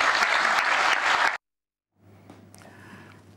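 Dense applause from a studio or political audience fills the first second and a half, then cuts to silence, followed by a quieter stretch of room noise with a low hum and faint murmuring.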